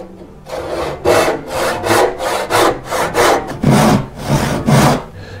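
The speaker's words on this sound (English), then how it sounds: "and then I'll finish it up with a handsaw. Cutting out the dovetail portion of the main molding." A handsaw cuts a dovetail into a wooden molding for a chest bottom, giving loud, close, rhythmic rasping strokes, about a dozen back-and-forth pulls at a steady pace with no talking.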